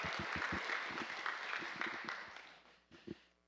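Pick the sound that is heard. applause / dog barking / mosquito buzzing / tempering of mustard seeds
applause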